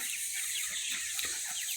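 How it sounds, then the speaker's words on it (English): Narragansett turkeys in a small pen give soft, brief clucks and low calls over a constant high farm hiss, faint and nearby, with no voices. "Got my turkeys in this little pen here."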